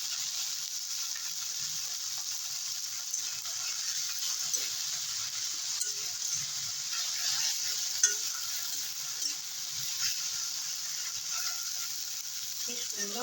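Edible flowers frying in a pan, a steady soft sizzle with light stirring and scraping clicks throughout, fairly quiet and continuous.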